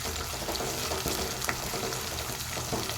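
Spiced masala paste for an Andhra-style chicken curry sizzling and frying in a pan, a steady dense crackle that runs unbroken throughout with no voices.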